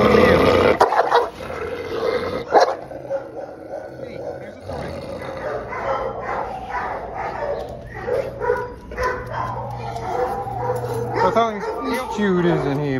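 A dog barks, yips and whimpers in short bursts, with people talking over much of it.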